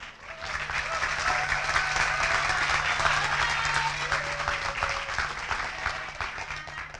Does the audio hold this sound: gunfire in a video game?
no